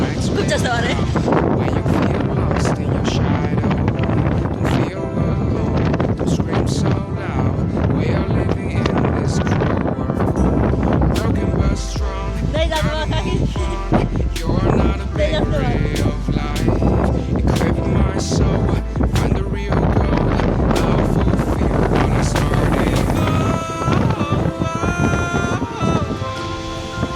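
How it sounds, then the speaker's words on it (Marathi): Strong wind buffets the microphone in a village setting, a constant loud rumbling roar with gusty bursts running throughout, while people talk over it. "खूप जास्त वारा आहे."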